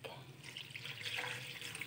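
Water pours into a pot for curry fish head, a steady close splashing rush that fills the whole short stretch with no talk.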